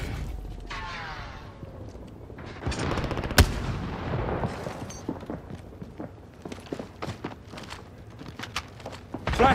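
Scattered gunshots and clattering movement in a first-person shooter video game, with sharp reports popping out over a busy, rumbling background and an occasional nearby crack.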